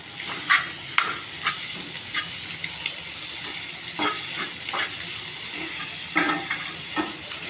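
Cooked brown rice stirred in a hot pan, giving a steady frying sizzle with soft, irregular scrapes of the spoon against the pan, close and moderately loud with no voices.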